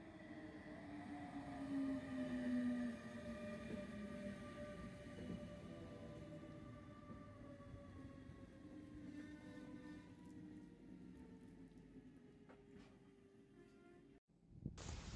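An S-Bahn train at the rural Rathen station, a steady low rumble and rolling hum of the train at moderate distance, easing off toward the end with a clunk, no talking.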